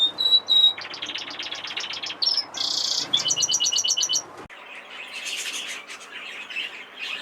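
Bright, rapid chirps and trills from Fife canaries, close and continuous, with short bursts of twittering song overlapping throughout.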